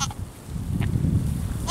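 Goats bleat on a farm where kids were just born, a couple of short cries standing out over low rumbling background noise.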